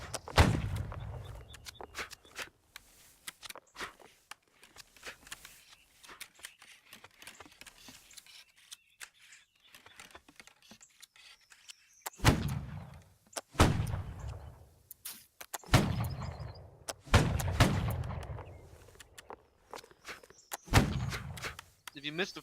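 Gunshots at a shooting practice area in a video game, sharp cracks spaced irregularly, some near and heavy with a booming tail, others lighter, with ambient clicks between shots.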